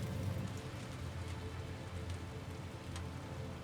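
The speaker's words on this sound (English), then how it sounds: "And it's normal rain, too." Rain falls steadily in the video game Death Stranding 2, a soft, even patter on surfaces with a low rumbling undertone, faint and continuous, with no voices.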